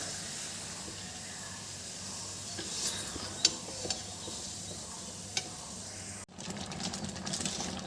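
Mango pieces being stirred with jaggery in a pan for a sweet-sour-spicy mango pickle, a steady soft hiss and sizzle with a few faint scrapes, close and fairly quiet, with no voices.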